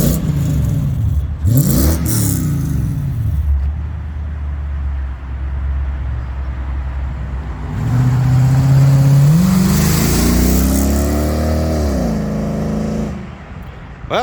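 A petrol V8 in a 200 series fitted with a Pacemaker exhaust revs up and down close by, with loud rising and falling engine sweeps over a steady rumbling idle.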